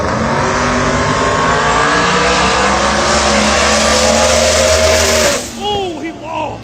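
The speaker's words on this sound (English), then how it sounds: "Oh, that was a drag race." Drag race cars at a no-prep race at Maple Grove roar down the strip in a loud, sustained engine blast with rising pitch, then cut off abruptly near the end, leaving quieter revs and talk.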